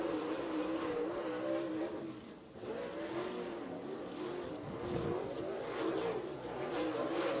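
Race cars circling the dirt track at West Virginia Motor Speedway, a continuous loud engine roar that swells and dips as cars pass, with faint talk beneath.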